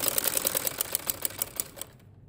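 A sewing machine runs a quick burst of stitching through salwar fabric: rapid, even mechanical clatter for about two seconds, close and fairly loud, then it stops.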